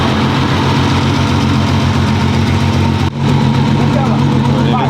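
A Toyota 1JZ engine swapped into a Mercedes 190E idles loudly and steadily while warming up, a close, dense, even rumble with a brief dip in level midway.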